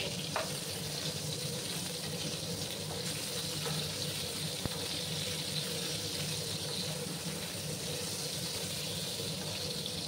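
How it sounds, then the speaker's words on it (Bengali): Pieces of pointed gourd (potol) fry in hot oil in a pan, a continuous, even sizzle and crackle with faint stirring scrapes and no talk. "একটু লাল লাল করে আমি পটলগুলোকে ভেজে নেব।"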